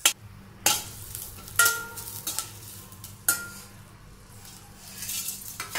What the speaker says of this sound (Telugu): పచ్చిమిర్చి వేగాయి కదా, వెల్లుల్లి కూడా వేసుకుందాం. వెల్లుల్లి కూడా 1 నిమిషం వేగిన తర్వాత